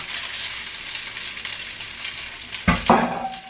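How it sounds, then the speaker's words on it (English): Eggs sizzle and fry in a pan of fried rice with soy sauce, a steady close hiss punctuated near the end by a couple of loud scraping stirs of a utensil against the pan. "you just want to start scrambling those eggs right in the middle"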